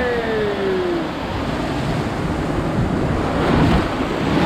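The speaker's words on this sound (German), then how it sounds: "Diese Welle kam auf meinen Fuß!" A wave washes over riders on a theme park water ride, a loud, broad rushing splash with strong wind buffeting close to the microphone, surging slightly toward the end.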